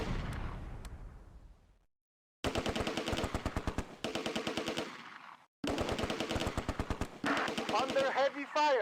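Heavy machine-gun fire from the war game Close Combat: A Bridge Too Far, set at a farmland drop zone in Operation Market Garden, comes in long rapid rattling bursts separated by brief silences, loud and close.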